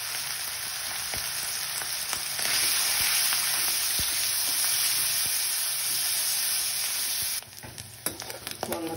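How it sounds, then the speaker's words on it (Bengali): Pieces of boal fish frying in hot oil with a little salt, a steady loud sizzle that runs unbroken for most of the time before dropping to sputtering crackles near the end. "এখন আমি মাছগুলো দিয়ে ভালো করে ভেজে নেব।"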